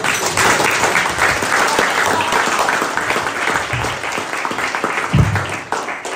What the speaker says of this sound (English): Please give a warm hand of applause to Mr. and Mrs. John Witt, our host.